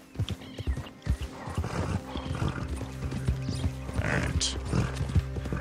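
Horse hooves clip-clop in an uneven rhythm nearby in the video game Red Dead Redemption 2, with a brief whinny, over a low background hum.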